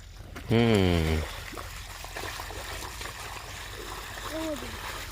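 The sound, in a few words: water flowing from borewell motor pump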